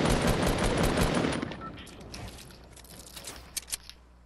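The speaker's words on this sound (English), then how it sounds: "It's a guy on the right shooting at me." Gunfire in the Fortnite video game: a dense burst of rapid automatic shots that fades after about a second and a half, followed by scattered faint pops and a few sharper isolated shots.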